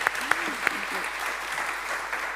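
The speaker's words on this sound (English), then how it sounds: "Could we have a round of applause for our speakers" An audience at a sustainability tourism conference applauds its speakers, fairly soft, distant clapping that runs steadily, with a few brief voices over it.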